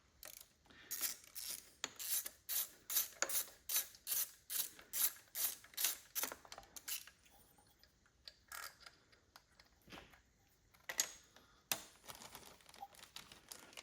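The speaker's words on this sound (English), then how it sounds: "now we can take out this bolt" A ratchet backs a throttle body bolt out on an S62 engine, giving quick runs of sharp metallic clicks up close, then a pause and a few more scattered clicks.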